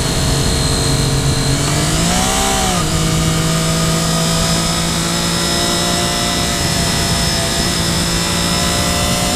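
A 2013 Triumph Daytona 675R motorcycle is ridden, its engine droning loud and steady with a brief rise and fall in pitch, heard close amid strong wind noise.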